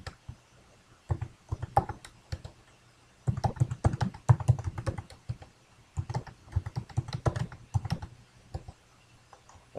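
Bursts of fast typing on a computer keyboard, crisp close key clicks in several runs separated by short pauses, with no talking.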